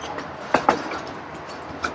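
A safari train at a zoo passes with rumbling rail noise and a few sharp clanks and clacks, fairly close and without talk.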